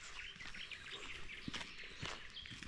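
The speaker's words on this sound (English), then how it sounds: "Super much bird, listen." Birds sing outdoors at a sculpture park in early morning, with scattered chirps and calls over steady outdoor hiss and a couple of soft footstep-like thuds.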